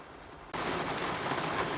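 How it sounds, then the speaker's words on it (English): Heavy rain arrives in a sudden wave, jumping from near quiet to a loud, dense, hissing downpour that keeps up steadily to the end. "Oh, another wave of rain. Strong too,"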